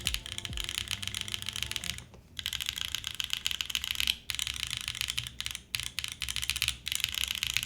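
Keyboard spacebar with Mode stabilizers pressed repeatedly, a close series of crisp clacks and thocks in a quick, slightly irregular rhythm with short pauses between bursts.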